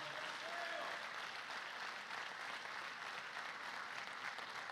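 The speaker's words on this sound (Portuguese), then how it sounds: "Será que você pode aplaudir o Senhor nesta noite?" A church congregation applauds during an evening family worship service, a dense, even roar of many hands clapping that holds steady and fairly distant throughout, with no speech over it.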